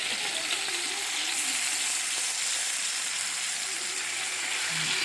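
Beef tenderloin sizzles loudly and steadily in a hot pan as it is turned with tongs, a continuous close frying hiss with no talking.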